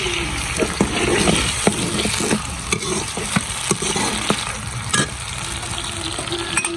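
Tomatoes and green chilies sizzle and crackle steadily in a hot pan, with sharp clicks of a spoon stirring throughout; no talking.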